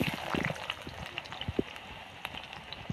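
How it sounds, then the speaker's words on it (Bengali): Potato pieces frying in hot oil in a pan, a steady close crackle and sputter with scattered sharper pops, no voices. "তেল দিয়ে দিয়েছি, এবার কেটে রাখা আলু ভেজে নিচ্ছি"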